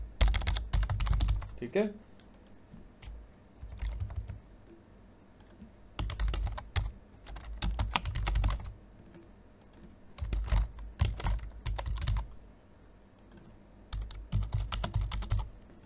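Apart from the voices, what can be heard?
typing on a computer keyboard, filling an online form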